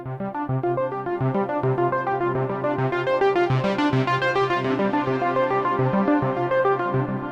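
A modular synthesizer sequence plays rapid repeating plucked notes in a steady rhythm, with echoing delay repeats trailing each note, loud and clean with no voices.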